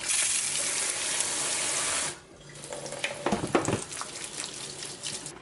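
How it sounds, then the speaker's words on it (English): Tap water runs steadily into a sink as beans are rinsed, a strong even gush that cuts off after about two seconds, followed by quieter splashing and handling of wet beans. "So now we're just gonna be rinsing the beans."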